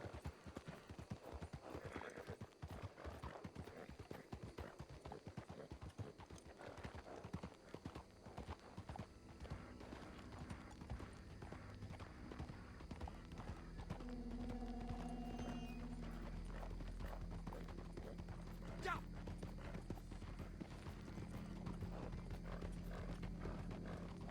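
In Red Dead Redemption 2 Online, rhythmic hoofbeats of a dying horse clip-clop steadily, joined later by a low rumble and a brief whinny-like tone, all at moderate distance.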